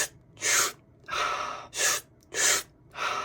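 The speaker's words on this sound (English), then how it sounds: "I want you to breathe like you're sucking in through a straw" Deep breaths are drawn in through the mouth as if through a straw, five slow, breathy inhales in an even rhythm, close and alone.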